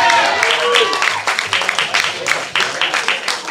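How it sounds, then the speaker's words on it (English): A small open mic crowd at a gallery brew house claps for performer Teddy, with scattered, uneven hand claps and a voice speaking over the start before the applause thins out. "Clap it up for him."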